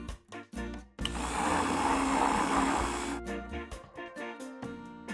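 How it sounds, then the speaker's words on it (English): A blender whirs loudly for about two seconds as it processes sponge cakes, starting abruptly and cutting off between shorter clattering sounds. "Process sponge cakes in a blender."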